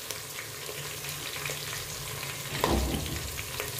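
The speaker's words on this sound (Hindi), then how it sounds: "अब प्याज जो है बिल्कुल गोल्डन हो गए हैं तो मैंने इसमें डाल दी है सब्ज मिर्चें, इनको भी मैं अच्छे से फ्राई कर लूँगी" Green chilies frying with golden onions in a pot for aloo pulao, a steady close sizzle with a brief louder stir or clatter near the end.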